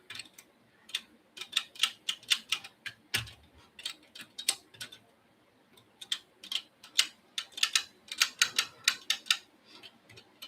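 Lever pins of a Boda lever lock clicking during picking, giving sharp, close, quiet ticks in irregular bursts and short runs with brief pauses between them.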